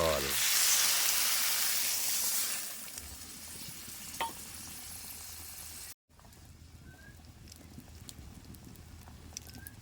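Water hits a hot pan of spiced egg curry with a loud, close burst of hissing sizzle that fades after a couple of seconds into a quieter, steady simmering crackle.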